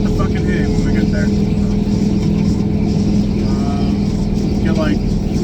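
Engine and road noise from inside a Chevy squarebody pickup cruising on the highway, a constant loud droning rumble with steady hum, while someone talks over it.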